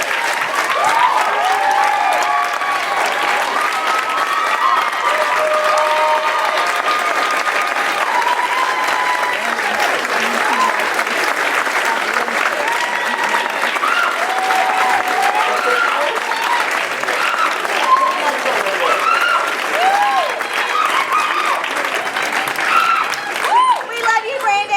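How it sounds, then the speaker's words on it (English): An audience at a volunteer gala gives a standing ovation, with strong, sustained applause from a large crowd that stays steady and full for about twenty-five seconds. "Let's give a very hearty round of applause."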